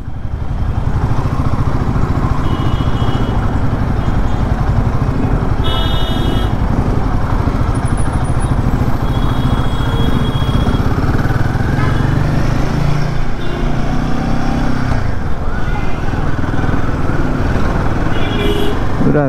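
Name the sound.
motorcycle engine while riding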